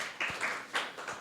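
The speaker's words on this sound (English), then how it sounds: "Round of applause, guys" Soft, brief applause from an audience at a live Sherlock night at the Blue Box, heard as a quiet, hissing patter of scattered hands at a distance for about a second.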